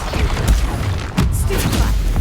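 Confringo blasting spell detonating in Hogwarts Legacy combat, loud dense bursts with a sharp impact near the middle, set against busy battle noise and brief voice sounds.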